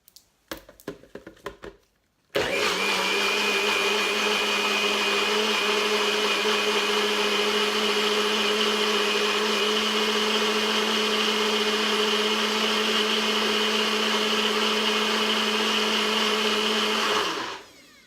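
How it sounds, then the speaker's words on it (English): A blender whirs at full speed through a goose curry and yoghurt mixture, starting after a few knocks and running as a loud, steady high-pitched whine for about fifteen seconds before winding down. "give that another blend up"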